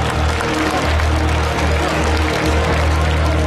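A concert-hall audience applauds new team members at a reshuffle event, steady dense clapping, loud and sustained throughout with a low crowd murmur.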